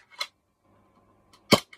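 A Raven R22 gas blowback airsoft pistol fires two sharp, close pops about a second apart, each snappy and brief, with a faint mechanical clatter between them.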